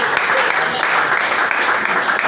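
An audience claps in a dense, steady round of applause to welcome Dr. Emmanuel Tibi at a forum. The clapping sounds close and loud and continues for about two seconds.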